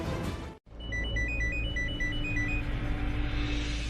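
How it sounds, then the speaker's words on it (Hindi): A melodic phone ringtone signals an incoming call in a Hindi TV drama scene, a repeating high tune of short notes running over a steady background music bed after a brief silent gap. "शर्लीन फोन कर रही है आपको, बात कर लो।"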